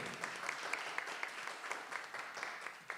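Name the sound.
congregation applauding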